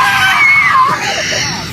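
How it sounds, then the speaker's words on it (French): A child screams in a high, piercing wail that rises and bends in pitch, loud and close, lasting under two seconds with no talk over it. "Here comes the screaming kid."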